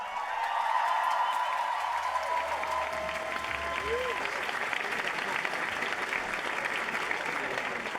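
Steady crowd applause fills the whole stretch, dense and even, with a faint cheer or voice drifting above the clapping.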